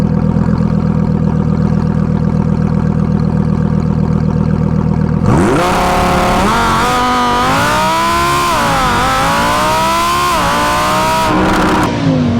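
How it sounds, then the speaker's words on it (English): A Lamborghini Huracan EVO LP640-4 does a sport mode launch, going from a loud steady idle to a sudden roaring acceleration with rising and falling revs through gear changes, heard up close. "Sport mode launch, try 2."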